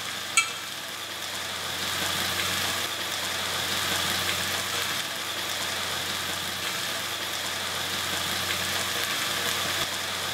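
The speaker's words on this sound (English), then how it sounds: "I'm now going to add some passata." Passata goes into a hot pan and hisses with a steady, close sizzle that barely changes, after one sharp clink right at the start.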